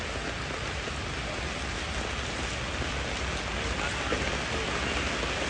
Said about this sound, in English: Wow, raining so much.